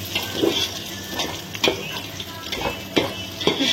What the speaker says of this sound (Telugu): 2 స్పూన్ల నెయ్యి, 2 స్పూన్ల నూనె వేసి బిర్యానీ మసాలా, పచ్చిమిర్చి, ఎర్రగడ్డ వేసి ఇవన్నీ బాగా వేగనివ్వాలి.